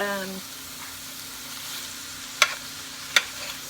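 Ground meat frying with onion and celery for chili, a steady close sizzle throughout with two sharp utensil clacks against the pan, no talking.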